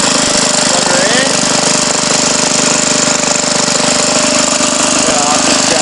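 A Kohler generator runs at a loud, steady, pulsing drone with a grinder plugged into it, the engine noise dominating without letup from start to finish.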